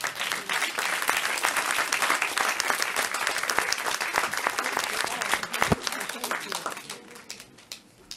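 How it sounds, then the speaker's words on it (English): Loud, dense applause from an audience at a special event on Libya's forgotten women, sustained clapping that runs for several seconds before thinning out and fading near the end. "I think you deserve a very big applaud from everybody here."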